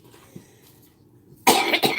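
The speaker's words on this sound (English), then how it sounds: "sometimes my stupid vape makes me cough" A person coughs from vaping, two harsh close bursts of coughing after a quiet pause, loud and raspy with a brief break between them.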